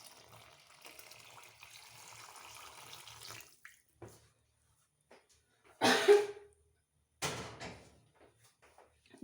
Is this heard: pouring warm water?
yes